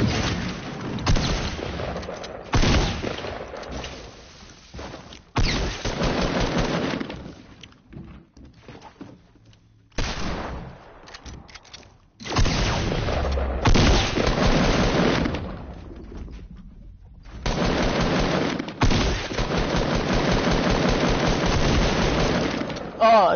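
Repeated gunfire bursts in a playground-style shooter video game, including shotgun blasts, loud and close, coming in clusters with short gaps while people talk over much of it.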